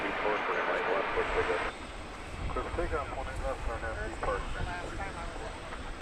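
A Qantas airliner at DFW Airport at night gives a broad, steady engine roar from a distance while people talk over it.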